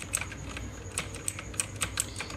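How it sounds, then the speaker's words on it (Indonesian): Keys on a budget RGB backlit mechanical keyboard are typed in an irregular run of crisp, close clicks, each keystroke sharp and distinct over a quiet room. "Tombolnya juga enak ya, enak juga seperti mekanik keyboard pada umumnya."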